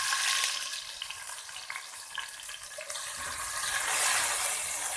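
Tomatoes hit hot oil in a pan with a loud, steady broadband sizzle that swells toward the end, with no talking.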